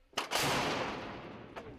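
A Soviet S-60 anti-aircraft gun fires loud booming shots, two in quick succession followed by a third a moment later, each blast rumbling away afterward.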